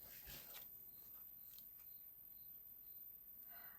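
Scissors snip through paper card while making a handmade flower-vase greeting card, a few quiet, brief cuts near the start and then faint intermittent snips over low background noise.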